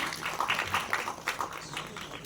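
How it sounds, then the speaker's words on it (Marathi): Audience at a Marathi film trailer launch clapping in a light, scattered burst of applause, moderately distant and fairly faint. "एकदा जोरदार टाळ्या त्यांच्यासाठी."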